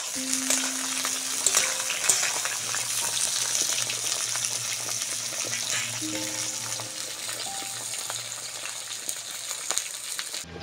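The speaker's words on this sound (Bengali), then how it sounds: "বেগুনগুলো ভেজে নেব।" Eggplant slices fry in a pan with a continuous close sizzle, spattering and occasional stirring scrapes, heard alone without talk.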